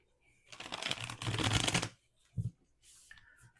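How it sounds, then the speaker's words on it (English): A deck of tarot cards is shuffled close up. Two quick riffling bursts are followed by a short tap of the deck and soft handling sounds. The sound is quiet and no one talks. "We're going to put this back in the deck and reshuffle"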